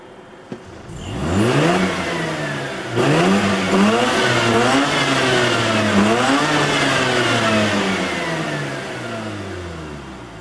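Mazda RX-8 rotary Wankel engine running on LPG autogas, starting up, then revving repeatedly in rising and falling sweeps before settling back, loud and close with no talk.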